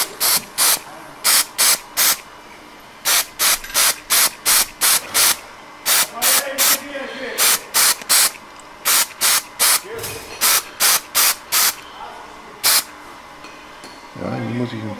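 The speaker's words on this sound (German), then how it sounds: "Man muss so ein bisschen daneben sprühen, dass man nicht den Stamm erwischt." Short bursts of spray paint hiss while the tips of model spruce trees are coated, coming in quick rhythmic clusters of puffs, close and loud, with a voice heard now and then between them.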